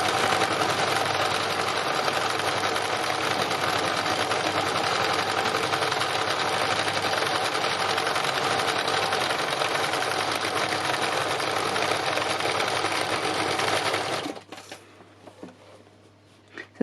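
A sewing machine runs continuously during free-motion embroidery, a loud, even mechanical whirr with rapid needle chatter for about fourteen seconds before stopping abruptly, leaving faint handling noises.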